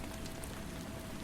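Steady rain falls in a dense, even hiss of drops hitting a surface, with no voices over it.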